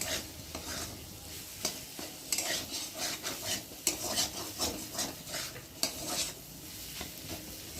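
Maggi noodles with egg and mashed potato are stirred in a frying pan: repeated scraping strokes of a spoon against the pan over a soft, continuous sizzle, close and fairly quiet, with no talking.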